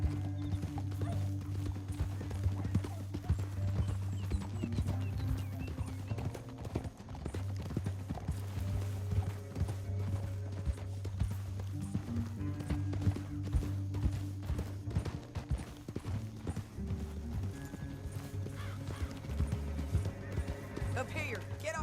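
Rhythmic clip-clop of horse hooves galloping steadily in Red Dead Redemption 2, over a low droning score, with occasional whinnies and voices talking underneath.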